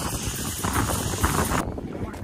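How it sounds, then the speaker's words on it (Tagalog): Steady strong wind buffeting the microphone outdoors in Canada, a dense constant roar throughout with no voices. "Ano, lakas ng hangin,"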